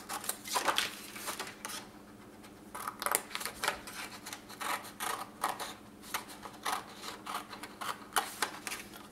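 Scissors snipping paper for a scrapbooking pop-up, a quick run of crisp, close cuts in short bursts with brief pauses, fairly quiet and with no talking.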